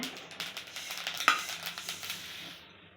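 Fifty grams of fenugreek seeds dry-roast in a pan for sambar powder, with soft, rhythmic stirring scrapes and a faint rattle of seeds, quiet and close, fading out at the end.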